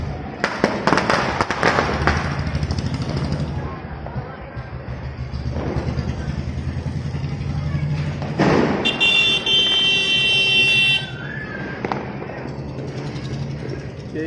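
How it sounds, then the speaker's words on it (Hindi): Continuous crackle and pops of Diwali fireworks going off at a distance, with occasional louder bursts and a brief whistling shriek partway through, steady throughout. "आतिशबाजी खूब हो रही है।"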